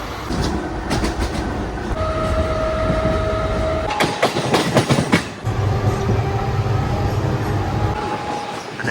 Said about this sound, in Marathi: भरपूर दिवसांनी ट्रेनने ट्रॅव्हल करतोय